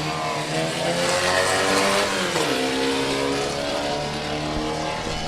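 Formula First race cars snarl loudly at the start of a one-hour endurance race, several engines revving hard together. Pitch drops as a gear is hooked, and the roar stays close and continuous throughout.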